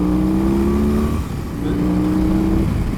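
A BMW R18 motorcycle engine drones steadily and close while being ridden, its low rumble dipping briefly as the throttle eases, then rising again.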